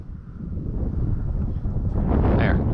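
Strong, gusty wind roars and buffets the microphone at a model glider flying field during a Tower Hobbies ASW 28 flight, building louder toward the end with no talking.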